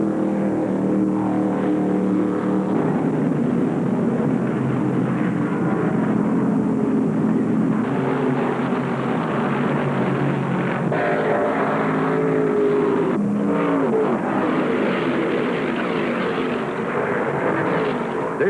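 Dodge Charger stock cars racing on the final laps of the 1975 ARCA Late Model Sportsman 200 at Alabama International Motor Speedway, a steady loud roar of engines heard from trackside with no voices.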